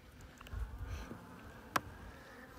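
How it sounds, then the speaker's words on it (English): Faint buzzing of bees inside a hive, soft and continuous, with a brief tap partway through. "there's a good number of bees in here"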